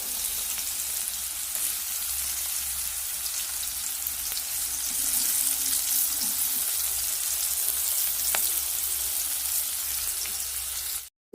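Chopped onions frying in oil, a dense, even sizzle holding steady at close range for about eleven seconds before cutting off abruptly.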